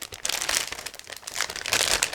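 Close, crinkly plastic rustling in a few quick bursts as a resealable plastic bag holding 1/72 scale model kit parts is handled and pulled open.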